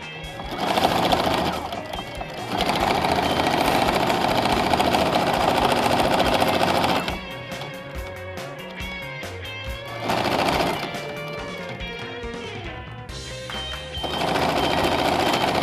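Domestic sewing machine stitching a seam all the way around a garment, loud steady motor whir in long bursts with short pauses between runs, no talk.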